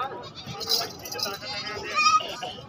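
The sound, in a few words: goats bleating at a goat market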